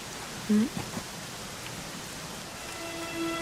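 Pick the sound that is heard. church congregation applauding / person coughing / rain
rain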